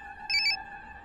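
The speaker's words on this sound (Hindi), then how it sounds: "मुक्ति कपूर का फोन" A phone rings once with a short, bright electronic double trill over a faint steady hum.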